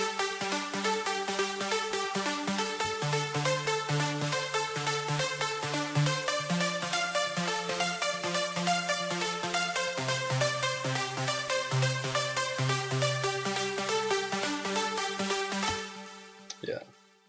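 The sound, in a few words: layered trance pluck synths in FL Studio 11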